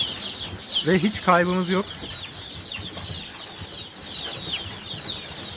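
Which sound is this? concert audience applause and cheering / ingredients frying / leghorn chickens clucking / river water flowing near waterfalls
leghorn chickens clucking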